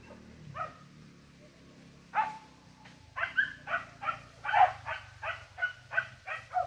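A dog on a farm barks in a quick run of sharp, repeated yaps, sparse at first and then fast and rhythmic, with a faint low background rumble.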